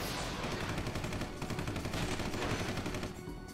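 Rifle gunfire roars in rapid sustained bursts with small explosions mixed in, a dense loud barrage filling the whole stretch as a dramatized battle effect in a building where a security robot stands guard.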